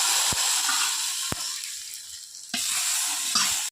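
A hot asafoetida tempering is poured into pumpkin sambar and sizzles loudly and steadily up close. A few sharp clicks break through the hiss before it stops abruptly.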